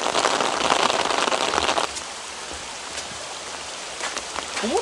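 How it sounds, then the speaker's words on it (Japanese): A loud, dense downpour of heavy rain hisses at a shrine in Shiga Prefecture, then eases suddenly to a softer steady patter with a few scattered drops. "雨が強い"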